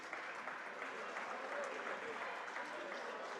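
Faint applause from a distant crowd at a boys varsity basketball playoff game, a steady patter of clapping that holds evenly throughout.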